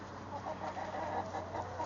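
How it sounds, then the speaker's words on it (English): Soft, low clucking from chickens near a greenhouse, a steady murmur of small calls over a faint background hum. "Chickens are hanging out."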